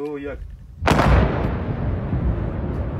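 A single loud gun blast with an explosive boom outdoors in Laos, a sharp crack followed by a long rumbling decay, preceded by a brief voice.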